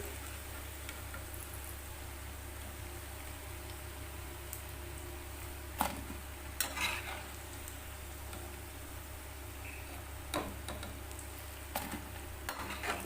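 Pumpkin snack fritters fry in hot oil, giving a soft continuous bubbling hiss close by, with a few sharp utensil clinks and scrapes as they are turned.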